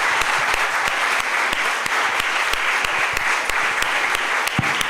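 An audience at a biotech talent skilling programme session applauds its fourteen panelists: dense, steady clapping from many hands, loud and continuous throughout with no break.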